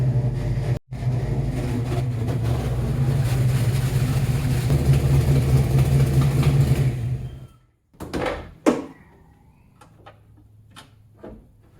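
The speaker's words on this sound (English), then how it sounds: "it appears I've got a major exhaust leak there on the passenger side" A Fox Body Mustang with a Tremec TKX transmission and a major exhaust leak on the passenger side runs loud and steady, then cuts off, followed by several sharp knocks and clicks in quieter surroundings.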